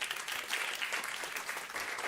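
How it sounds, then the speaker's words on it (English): An audience at a talk on nourishing people and the planet applauds, a steady wash of many hands clapping at moderate distance, fairly faint and continuous without voices. "Give her a round of applause."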